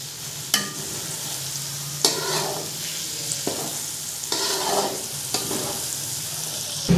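A spoon stirs potato and egg curry in a hot pan, giving a few scraping strokes over a constant loud sizzle of frying, with no voices.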